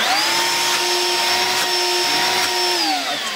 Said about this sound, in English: We've been using this to get into corners and vacuum them out.